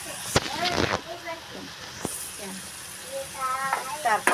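Chili powder and vegetables sizzle in a hot pan in a home kitchen, a steady crackling hiss running underneath someone speaking close by.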